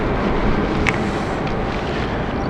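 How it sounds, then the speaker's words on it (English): Rain covers flap and rustle against a constant roar of wind, with one sharp snap partway through, close and fairly loud. "the noise you can hear is the covers for the rain covers, Sarah."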